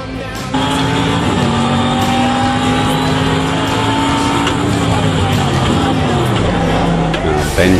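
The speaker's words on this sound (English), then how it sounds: "Ben trying his hand out of the V8 supercar simulator." A loud V8 supercar engine sound from a racing simulator drones and revs steadily, with rising and falling engine pitch and a brief shift near the end, voices faint underneath.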